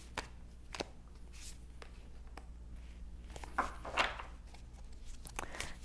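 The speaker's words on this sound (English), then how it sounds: "So I'm pulling all the cards and then I'll start interpreting the cards here." Tarot cards being shuffled and pulled from a deck, with soft quiet riffles and flicks, a few crisp snaps and a brief louder flurry of shuffling near the end, no voice.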